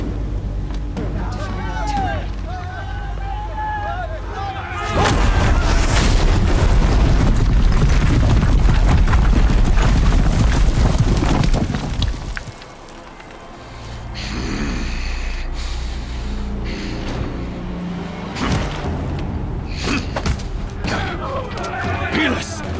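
Guns firing and explosions during a battle in the action game Horizon Zero Dawn: a long stretch of loud, dense booming and crashing, a brief lull, then more blasts, mixed with shouting voices and dialogue.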